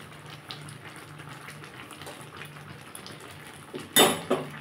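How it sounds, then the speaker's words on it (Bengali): A spoon stirs mung dal with soybean, garam masala and ghee in a pot, giving soft bubbling and faint scraping, then a sharp metallic clank and a smaller clatter near the end. "আমি একটু নাড়িয়ে দিলাম,"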